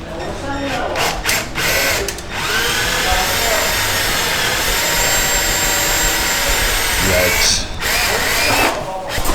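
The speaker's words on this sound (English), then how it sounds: "Just drilling holes in the roof of a Raptor, no big deal" Power drill boring holes through the roof of a Ford F150 Raptor, a steady loud whine running almost continuously with brief dips near the start and toward the end, close by.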